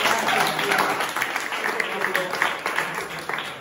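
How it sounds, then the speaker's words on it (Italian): Audience at a Fratelli d'Italia party office inauguration in Fagnano Olona claps in a dense, steady burst that fades toward the end, with a voice talking over the applause. "Facciamo un applauso!"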